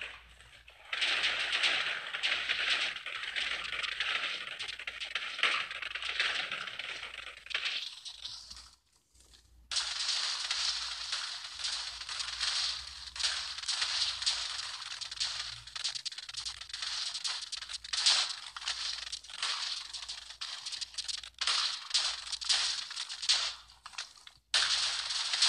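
Rapid crackling bursts of video game explosions tear through a village after a switch is flicked, a dense, continuous barrage that briefly cuts out near the middle before resuming just as loud.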